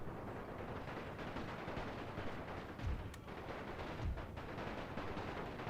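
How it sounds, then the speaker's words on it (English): Machine gun and artillery fire in a Great War battle game, a dense, continuous crackle of distant gunfire with a couple of heavier low booms standing out, no speech. "We'll tell the artillery to fire at will."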